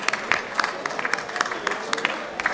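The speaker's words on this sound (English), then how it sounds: "let's give all of our winners a big round of applause" Audience at a curry cuisine awards ceremony applauding the winners, a steady wash of claps with sharper individual hand claps popping out, moderately close and without voices over it.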